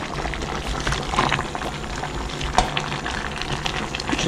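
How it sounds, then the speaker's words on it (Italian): A pot of Roman-style oxtail stew comes back to a full boil over the heat, giving a steady close bubbling and sizzling with small pops and no talking. "abbiamo aspettato che alzasse proprio bene bene il bollo"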